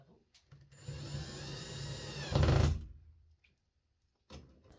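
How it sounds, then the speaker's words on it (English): A power drill whirs steadily for about two seconds driving anchor screws for a bathroom vanity light fixture, rising to a louder burst as it bites in, then stops, followed by quiet and a brief clatter. "we're drilling in the anchor screws"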